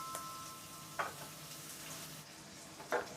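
Garlic, green chili and tomato sizzle gently in a pan, a soft continuous frying hiss with a few sharp clinks of a utensil against the pan, fairly quiet and without voices.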